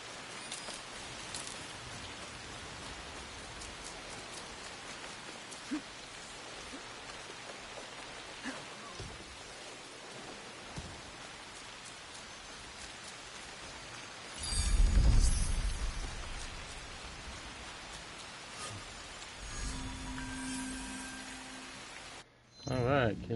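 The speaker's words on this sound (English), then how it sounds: "It almost feels like every time I do these shrines, it's always raining." Steady rain in the video game Assassin's Creed Shadows patters continuously at low level near a shrine, with a brief louder rumble midway and a short low hum near the end.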